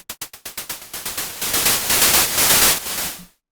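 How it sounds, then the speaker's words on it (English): Bursts of white noise from a Pigments software synthesizer, starting as a rapid series of short sharp hits that speed up and merge into a dense, loud hiss, then cut off abruptly into silence. "white noise output 0 dB"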